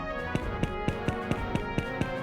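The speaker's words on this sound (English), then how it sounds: "Footsteps. Marble." Video game footsteps on marble from a sound test, a steady even series of about nine crisp taps, close and clear over a faint background hum.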